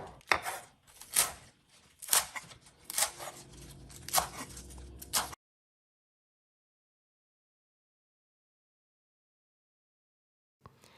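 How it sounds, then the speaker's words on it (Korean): A knife chops kale leaves for a salad in a series of crisp, rhythmic cuts on a board for about five seconds, close and clear, then silence follows. "케일잎도 썰어서 담아주세요"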